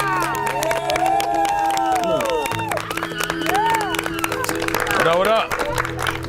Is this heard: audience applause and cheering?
yes